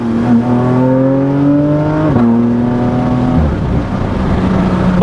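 Porsche 992 GT3 RS engine driving and revving, a loud, steady high-pitched howl that climbs in pitch, drops sharply on a gear change, then climbs again before settling into a lower drone.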